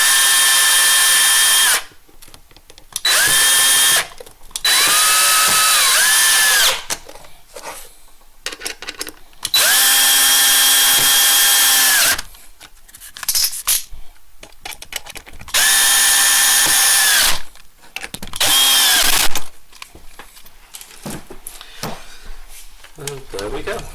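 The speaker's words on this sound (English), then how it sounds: "just screw those down nice and tight in place" A power drill drives screws tight during assembly of an Okapi 1 system kit, running in several loud whirring bursts of a few seconds each. Between bursts come quieter handling clicks and occasional talk.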